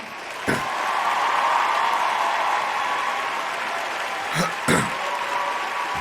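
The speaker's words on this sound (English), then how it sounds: "Big round of applause" A crowd applauding steadily and loudly for several seconds, with a few sharper thumps breaking through the clapping.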